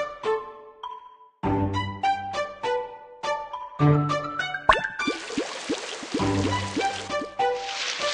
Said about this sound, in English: Water the little tree.